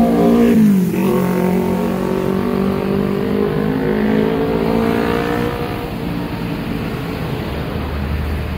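A tour bus drives past on the road, its engine droning loudly up close and then easing off as it moves away, the pitch sliding downward as it passes.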